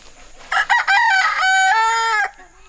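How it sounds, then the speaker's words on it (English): A farmhouse rooster crows once, close and loud: a couple of short opening notes, then a long sustained call that cuts off sharply. "That's Mr. Hardy the chicken, or the rooster"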